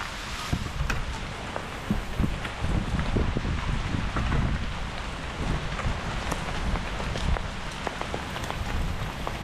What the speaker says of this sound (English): It's hailing. Check this out.